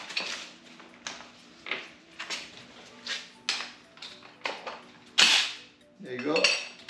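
Pneumatic impact gun loosening a wheel spacer bolt, 19mm socket, on a 2020 Ford Mustang GT: a series of short sharp rattling bursts, close, ending in a louder whirring burst.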